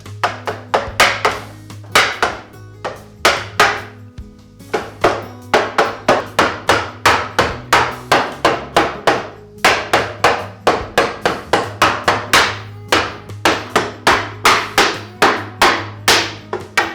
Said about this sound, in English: Then I can bring the other side over and gently tap it into place